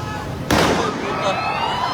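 A motor suddenly explodes in a loud blast during a riot in the Philippines, and its rumble lingers into a noisy, steady roar, with no clear talk.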